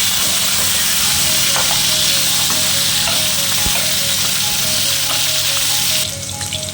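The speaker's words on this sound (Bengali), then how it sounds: "এবারে আলুগুলো আমি ভেজে নেব।" Potatoes frying in hot oil, sprinkled with salt and turmeric, after pomfret fish were fried in the same pan; a loud, dense, continuous sizzle close by with occasional stirring clinks.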